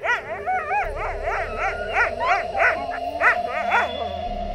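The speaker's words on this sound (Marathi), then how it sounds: "तोच त्यांचा कुत्रा पुन्हा एकदा तसाच आवाज काढू लागला." Dog barking in repeated yips and short howls, rising and falling in a rhythmic series over a low rumbling background that sounds like a vehicle on a ghat road.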